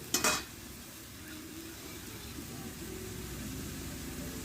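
A dry cabbage curry cooked with a hilsa fish head is stirred in a pan, giving a steady soft sizzle and faint scraping with one sharp clatter at the start, heard close up without speech.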